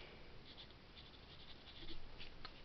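A pen scratches on paper as seawater measurements are written down for a salt-concentration calculation, a soft, continuous scribbling just above a steady background hiss, with no talking.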